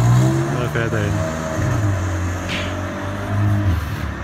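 A BMW M4 tuned by G-Power to 600 hp pulls away with a loud, close engine rumble that fades and rises again as it drives off, while someone talks over it.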